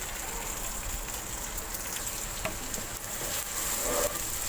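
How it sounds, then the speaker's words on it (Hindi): Okra (bhindi) frying in hot oil for a dhaba-style bhindi gosht, a steady close crackling sizzle with scattered pops, fairly constant throughout without any talk. "पहले मैं भिंडियाँ फ्राई करूँगी"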